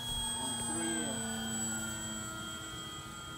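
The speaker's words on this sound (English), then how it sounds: "This plane can be flown on 3S or 4S, guys, exceeding flying times of over 6 minutes with proper throttle management" An E-flite M7 1500mm Maule electric RC airplane flies overhead, a steady high motor whine with faint pitch shifts, continuous and moderately distant outdoors.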